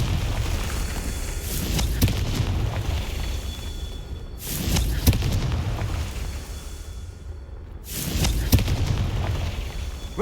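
Confringo fire spell explosions in the Hogwarts Legacy video game: three deep booming blasts spaced a few seconds apart over a rumbling background, loud and heavy.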